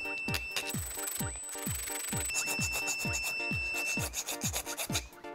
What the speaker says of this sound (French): On va continuer à limer.